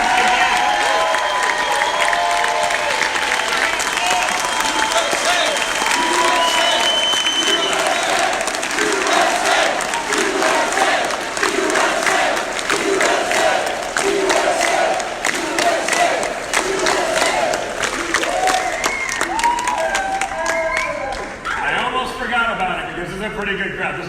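A large crowd at a Donald Trump Jr. political rally roars with cheering and applause, a dense, loud wash of voices and clapping that carries on throughout and thins slightly near the end.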